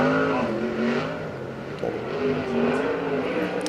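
A sprint car on a qualifying lap at a USAC Western World Championship race roars continuously, its engine note rising and falling as it powers off the corner, loud and near.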